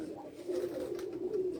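Pigeons coo softly on a Punjab rooftop loft, a low, steady murmuring coo running continuously at moderate loudness with faint background noise.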